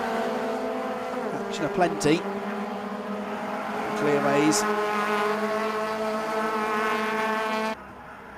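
Honda Civic Cup race cars racing at Brands Hatch, engines screaming loudly as several cars pass close in succession, with brief tyre and gear-change bursts, under a commentator's voice.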